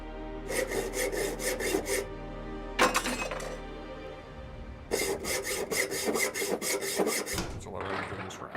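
A hacksaw cuts in The Long Dark survival game: bursts of fast, rhythmic rasping strokes, close and loud, separated by short pauses.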